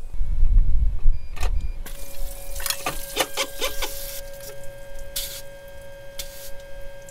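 Electric in-tank fuel pump on a 2004–2006 Sprinter van running with the key on, a steady mechanical whine holding through the clip, joined by several short hissing squirts of fuel; no one talks.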